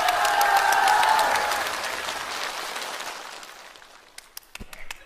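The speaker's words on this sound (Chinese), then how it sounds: "听懂的鼓掌。" A theater audience at a comedy sketch breaks into loud applause with some cheering that swells, then fades over a few seconds, leaving a handful of sharp isolated claps near the end.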